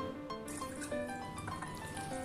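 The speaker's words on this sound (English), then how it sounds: "Now I am adding milk," Milk pours into a grinder jar holding rose petals cooked in sugar syrup for rose ice cream, a soft, close liquid trickle lasting a couple of seconds.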